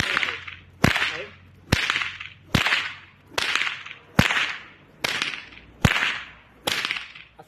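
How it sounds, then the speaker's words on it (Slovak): A shepherd's whip swung in figure-eight loops cracks sharply about nine times at an even pace, each loud snap followed by a brief swishing tail. "ako sa robí osmička s pastierským bičom"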